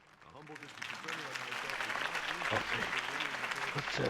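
A rally crowd in a Batman video game, gathered for Harvey Dent's campaign speech, breaks into dense applause that swells from quiet to a loud, steady roar, with a voice talking over it.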